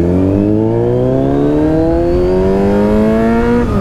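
A superbike engine runs loud and continuous on the highway, its pitch climbing smoothly as it accelerates, close and alone with no talking.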